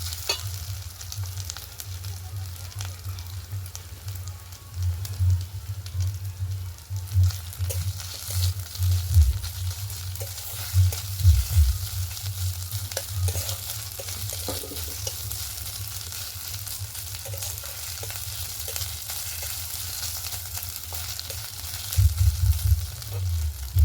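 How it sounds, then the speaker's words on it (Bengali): Onions frying with ginger-garlic paste in a pan for a goat-fat curry give a steady, close sizzle with occasional stirring scrapes throughout, and no one speaks. "পেঁয়াজগুলো প্রায় ভাজা হয়ে গেছে। এবার আদা রসুন বাটা একসঙ্গে দিয়ে দেব,"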